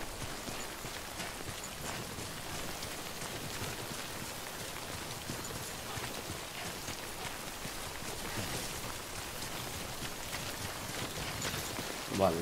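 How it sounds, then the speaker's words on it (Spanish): Steady rain pours down in the Death Stranding video game on PS4, a dense, continuous hiss of drops on surfaces that holds at even volume throughout with no voices on top. "No te quedes mucho tiempo bajo la lluvia"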